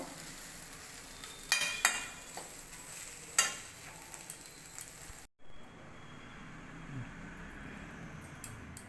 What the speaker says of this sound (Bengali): এই যে আমার ডিম আর ভেন্ডির ভাজা হয়ে গেছে, এখন তুলে নিব।